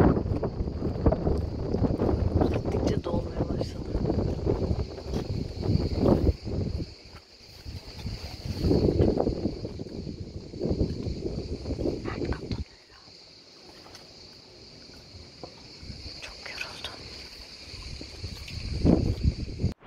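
Strong wind on Symi island in Greece, gusting and buffeting the microphone in loud irregular bursts with quieter lulls, over a steady faint high tone.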